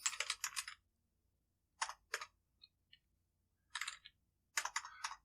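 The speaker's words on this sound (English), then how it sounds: "Let's say you're typing out a command" Quiet keyboard typing in short bursts of rapid key clicks, with brief silent pauses between them, close and isolated.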